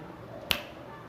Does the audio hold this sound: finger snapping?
yes